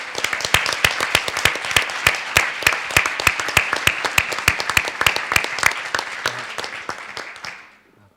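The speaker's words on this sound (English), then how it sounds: "have a huge round of applause for all the winners and Extra Zurita." A dense round of applause from a sizable crowd at an awards ceremony for winners, steady and loud for several seconds before tapering off at the end.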